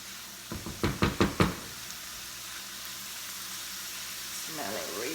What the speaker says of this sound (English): gonna let this saute until the onions and the pepper and all of that is translucent